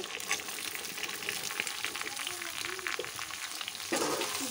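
Browned onion, raw tomato and potato frying together for a rohu fish curry, a steady close sizzle with stirring clicks and a louder burst near the end as more goes into the pan.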